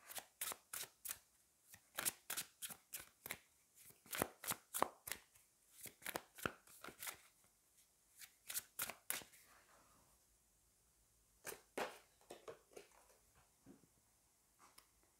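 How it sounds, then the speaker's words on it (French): Tarot cards being shuffled and drawn, a rapid series of crisp card slaps and riffles in close, quiet bursts, slowing toward the end with a few scattered taps. "On va aller prendre une carte des anges déchus, et puis on prendra une carte du chakra du cœur"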